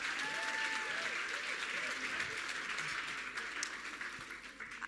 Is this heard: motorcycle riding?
no